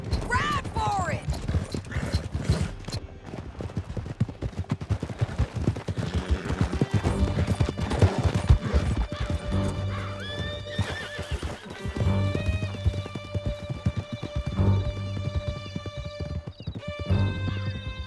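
Horse hooves clip-clop rapidly at a gallop in Red Dead Redemption 2, with a whinny, bursts of gunfire and voices over the steady pounding rhythm.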